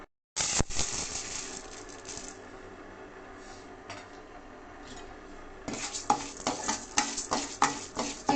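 Moong dal is stirred and fried in oil in a pan, with scraping and clinking strokes of a utensil that come in bursts, quiet at first and then more rapid and louder near the end, with no talking.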